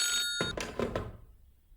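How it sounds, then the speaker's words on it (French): A telephone ringing, a few short electronic bell bursts close by, fading into quiet. "C'est là que le téléphone sonne."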